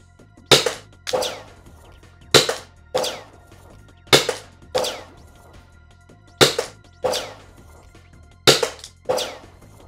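A CO2-powered NERF dart blaster fired in single shots, five evenly spaced pairs of sharp, loud cracks, each a snappy pop followed by a second thwack, close and otherwise quiet.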